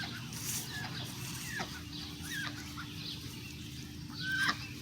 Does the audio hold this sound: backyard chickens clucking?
yes